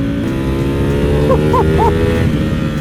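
A Ducati V4 SP with a Termignoni titanium exhaust runs at around 7,000 to 8,000 rpm, loud and close, with three quick rising throttle blips in a row over a steady roar.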